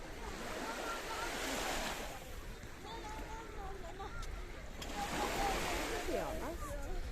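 Surf washing ashore at Corallia Bay Beach in Coral Bay, a continuous broad rush of waves swelling and easing, with wind and people talking over it.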